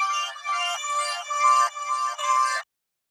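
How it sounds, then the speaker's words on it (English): A pitched-up melodic phrase loops in a beat, a bright, chime-like synth line playing in five short repeated segments before cutting off abruptly into silence. "what I did with the phrase is I just pitched it up"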